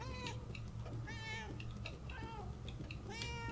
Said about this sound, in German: Die Katze läuft amok.